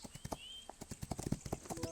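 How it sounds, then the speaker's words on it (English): Horse hooves clip-clop in the racing game Rival Stars Horse Racing during free roam, a quiet steady rhythmic run of distinct hoof strikes at a trotting pace, with a faint tonal whine behind. "You can just ride around on a horse for a bit if you want."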